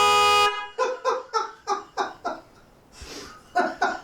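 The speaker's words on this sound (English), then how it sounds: "So we have horn, and this is what it sounds like." A cafe scrambler motorcycle horn blares in one long steady tone, then gives a rapid series of about ten short, loud beeps with a brief pause near the end.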